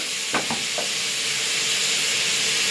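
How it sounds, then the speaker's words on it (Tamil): Two chopped tomatoes sautéing in a hot pan for a mushroom biryani, with a steady loud sizzle and hiss throughout. A few brief stirring scrapes come near the start. "தக்காளி நல்லா வதங்கி வரட்டும்."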